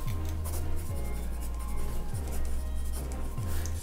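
A Kuru Toga 0.5 mm HB mechanical pencil writes on paper with close, continuous scratchy strokes, broken every second or so by a brief lift and a new stroke.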